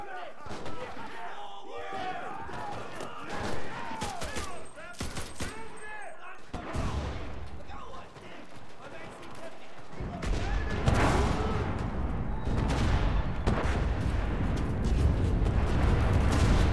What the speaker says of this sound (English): Explosions is where it gets really loud in this